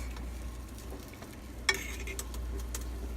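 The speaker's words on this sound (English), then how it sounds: "You just need to mix them up and get them hot." Food is stirred and fried in butter in a hot pan set to medium high, giving a soft, steady sizzle under a low hum, with a couple of sharp utensil scrapes and clinks against the pan.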